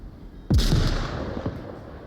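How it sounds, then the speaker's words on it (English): A frag grenade detonates in the Onward VR shooter: one sharp, loud blast partway through, followed by a rolling rumble and a smaller thump about a second later, with no voices. "Seemed like a wonderful frag grenade."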